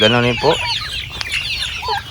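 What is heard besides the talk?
chickens clucking in the coop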